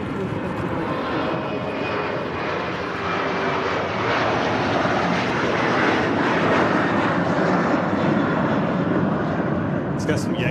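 A Boeing 737-900 airliner roars steadily at Manchester Airport on a wet runway, its engine noise loud and sustained throughout, swelling slightly toward the end, with people talking nearby.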